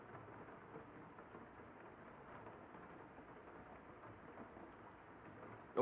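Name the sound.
rain in video game Raincode Vivia DLC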